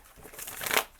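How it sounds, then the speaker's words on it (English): Tarot cards are shuffled in one quick, close riffle that builds into a crisp papery flutter and ends abruptly. "let me go ahead and shuffle this one more time"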